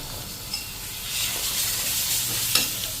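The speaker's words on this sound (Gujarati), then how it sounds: "આપણે ચમચી રૂમ ટેમ્પરેચર દૂધ નાખી દેશું" Room-temperature milk splashed into a hot pan of sukhdi mixture over a medium flame sizzles steadily, with soft stirring scrapes and a couple of brief clicks close by, no talking.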